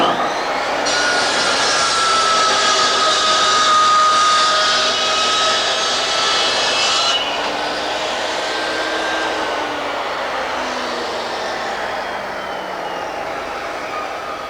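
A Triton Work Centre saw rips through wood and cuts off an off-cut with a loud, steady whine for several seconds. The motor then winds down in a long, falling hum.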